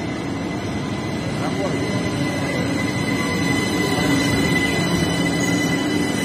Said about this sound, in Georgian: ტრამვაი